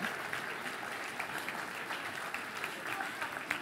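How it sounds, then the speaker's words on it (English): Children in an audience clap together at an early-morning book event, a steady, dense patter of many small hands that stays fairly quiet and even throughout. "Give yourselves a round of applause."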